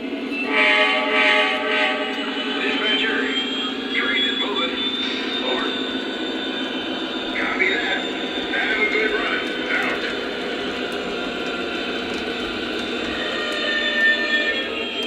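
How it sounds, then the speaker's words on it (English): A locomotive rumbles steadily along the track, running backwards over a switch, with squealing, rattling wheel noise and a faint horn, while voices talk over it. "now we'll run that engine backwards and you'll see how it works over the switch"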